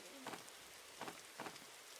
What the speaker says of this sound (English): Of course, it starts raining too.